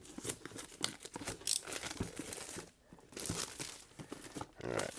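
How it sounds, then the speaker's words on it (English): A knife cuts and tears plastic wrap off the box of a 2021 DJI Mini SE drone, with close crinkling, crackling and ripping bursts throughout and brief pauses between strokes. "I'm just going to carefully cut the plastic so I can get this open."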